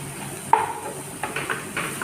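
Turmeric stirred into a banana flower curry in a pan, with a spoon scraping through the oily mixture in a few short strokes over a soft background sizzle.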